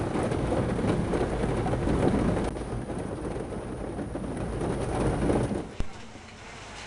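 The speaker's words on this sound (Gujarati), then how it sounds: "વ્યારા શહેરના સ્ટેશન રોડ વિસ્તારમાં વરસાદનું જોર જોવા મળ્યું" Heavy rain pours steadily onto a flooded station road in Vyara town, Gujarat, a dense continuous hiss close by that eases slightly toward the end.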